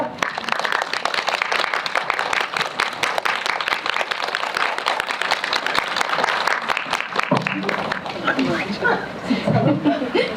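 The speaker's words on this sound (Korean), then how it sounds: "박수 부탁드립니다." Applause from the audience at a film screening with a director and actors present, steady dense clapping with scattered chuckles and laughter that thins toward the end.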